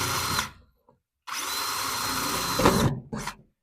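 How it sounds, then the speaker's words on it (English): A power drill drives screws into a fixture in a woodturning workshop: a short whine, a pause, a long motor run that strains as the screw seats, then a final brief burst. "we're going to screw it on right there"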